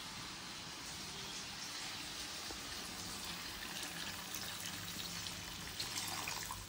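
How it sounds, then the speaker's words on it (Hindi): Water pours steadily from a vessel into a cooking pot of simmering spice mix for a Pahadi aloo badi thechwani, a continuous close splashing rush lasting several seconds with no talk. "साथ में हम इसमें पानी डालेंगे।"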